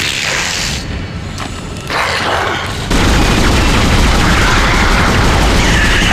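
Rifle fire in the sci-fi horror game Dead Space: loud, close bursts of rapid shots, then a heavier sustained roar of fire, with no voices.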